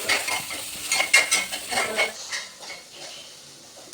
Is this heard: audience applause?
no